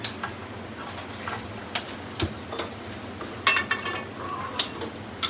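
Clicks from a gas stove igniter, sharp irregular ticks at close range over faint kitchen background, with a little clatter of pots.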